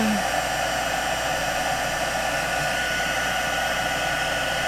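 A heat tool blows steadily over metallic Crayola crayon coloring, giving a loud, even whooshing hiss that runs without a break.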